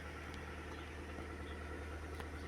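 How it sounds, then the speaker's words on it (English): A car engine idles just after being started, a low, steady hum and faint vibration that carries on evenly and quietly throughout, with no speech. "So first of all, we will turn on the engine."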